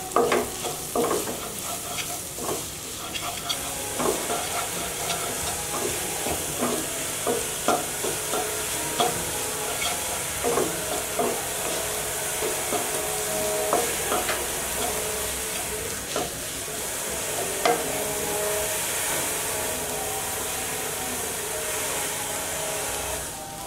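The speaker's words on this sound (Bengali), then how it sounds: "এখন আমি ডিমটা সবজির সঙ্গে মিশিয়ে নেব।" Egg is stirred with vegetables in a frying pan for fried rice: a continuous sizzle carries repeated scraping and tapping of the spatula against the pan, close and steady throughout.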